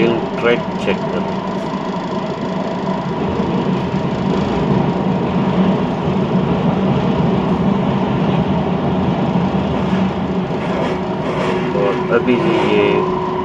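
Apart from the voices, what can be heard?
Kuala Lumpur metro train running on rails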